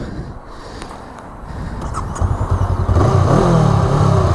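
A 2018 Honda CMX 500 Rebel motorcycle engine idling, then revving up and running louder and rougher, close by, with no talk over it.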